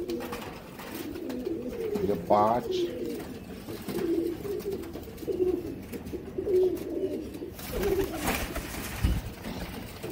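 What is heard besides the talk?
pigeons cooing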